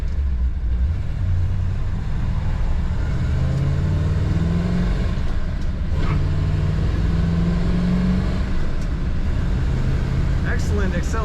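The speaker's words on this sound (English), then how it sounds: "Excellent acceleration in this car." A 1962 Chevrolet Impala SS with a four-speed floor shift accelerates, its engine rumbling loud and close as the revs climb and settle in long sweeps, with faint gear changes and steady road noise underneath.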